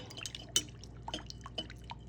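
A silver coin ring is lowered into a crock pot of liver of sulfur and water, giving soft drips and small splashy plinks, close and quiet, with no talking.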